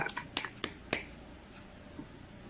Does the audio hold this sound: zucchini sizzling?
no